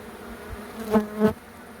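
Honeybees buzzing during a kitchen beehive relocation in Malmsbury, a low hum with two louder close passes as bees fly near, no speech.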